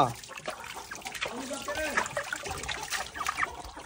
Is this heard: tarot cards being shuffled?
no